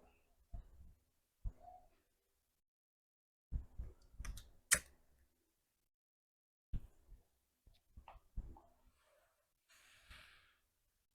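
Faint computer keyboard keystrokes, including a Ctrl+V paste while working with files on a PC, heard as sparse, scattered clicks in small groups separated by near-silent gaps.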